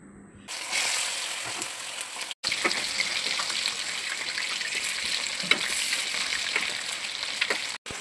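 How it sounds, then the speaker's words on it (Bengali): Chicken pieces fry in hot oil, a loud steady sizzle that crackles on and off, cut by two short breaks. "গরম গরম তেলের মধ্যে দেওয়ার এই শব্দটা আমার কাছে কিন্তু ভীষণ ভালো লাগে"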